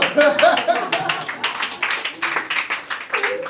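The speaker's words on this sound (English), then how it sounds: "don't know why you're clapping" Scattered audience clapping in a lecture hall during a motivational talk, a choppy run of claps with a speaking voice mixed in.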